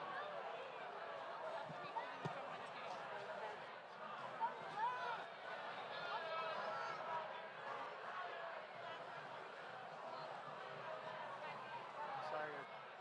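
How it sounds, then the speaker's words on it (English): A large crowd fills an entrance at a Gaza march in Washington, a steady dense babble of many voices with footsteps and shuffling, continuous and moderately loud throughout. "The crowd is very big."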